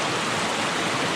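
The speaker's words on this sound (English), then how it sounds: "I could hear a waterfall." A waterfall on a branch of the Carrabassett River rushes in a steady, broad roar of falling water, close and continuous, with no voices over it.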